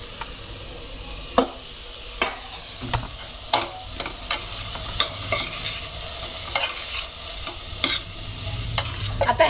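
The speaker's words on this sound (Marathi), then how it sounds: "आणि पुन्हा हा कोबी जरा थोडा परतून घ्यायचा आहे" Finely chopped cabbage being stir-fried for a mixed vegetable soup, with a steady low sizzle broken by sharp, irregular scrapes and knocks of a spatula against the pan, close by, with no talking.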